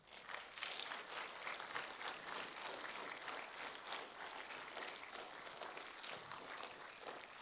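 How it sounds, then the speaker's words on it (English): Sustained applause from a church audience at a Pathfinders ten-year celebration, a dense, steady wash of many hands clapping that holds at an even level throughout, with no talk over it. "Can you give these guys a huge round of applause?"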